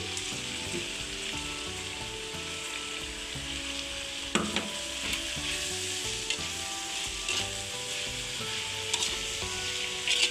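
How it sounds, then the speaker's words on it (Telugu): Bottle gourd fry sizzles in a pan with coconut and lentil powder, a dense steady crackle and hiss throughout, punctuated by the scrape and knock of a spatula stirring, close up with no talking. "ఆ పౌడర్ వేసుకొని మిక్స్ చేసుకోవాలి"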